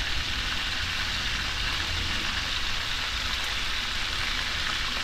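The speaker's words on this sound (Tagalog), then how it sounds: "Hindi natin pwedeng iprito ng sobra" Vegetables for ginataang gulay fry in a pan with a steady, dense sizzling hiss that runs evenly throughout, close and without talk.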